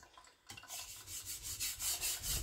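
A knife is drawn across a sharpening stone in a run of soft, rhythmic scraping strokes, raising a burr while a bevel is cut. The strokes are close and quiet, with no talk.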